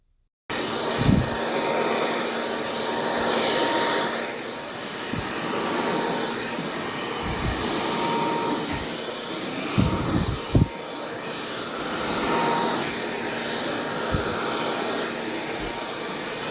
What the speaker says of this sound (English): Then I'm gonna go back in with the blow dryer just to spread that oil all over